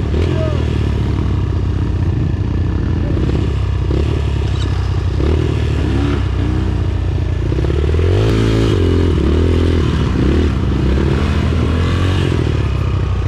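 Enduro motorcycle grinding up a steep uphill dirt trail, engine loud and close with changing revs and strain, rattling and scraping through the climb, with people talking over it at times.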